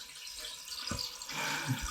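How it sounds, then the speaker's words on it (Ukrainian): Water runs into a toilet cistern after the float mechanism is nudged, a soft, steady close trickle and gush with a slight swell in flow midway. "доторкнувся ще більш до поплавкового механізму і вода побігла ще сильніше"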